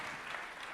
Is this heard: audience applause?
yes